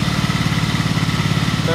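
A motorcycle engine idles nearby in a garage, a loud, even stream of rapid low exhaust pulses.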